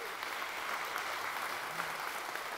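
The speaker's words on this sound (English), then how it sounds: "Would you join me in a round of applause?" Audience applause at an evening science talk on cooking, a continuous even clatter of many hands held at a fairly quiet, distant level throughout.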